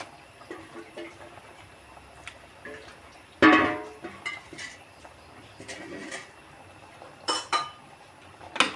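A spoon stirs marinated country chicken curry in a pot, with scattered clinks and scrapes against the metal, one louder knock, and faint voices in the background.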